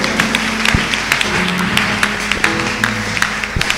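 A church congregation applauding in acclaim during a Sunday service, steady clapping with scattered sharper claps and a murmur of voices underneath.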